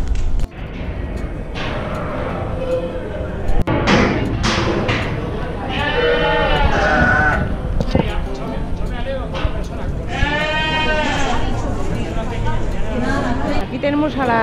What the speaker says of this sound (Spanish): Esta es la raza castellana de ovejas.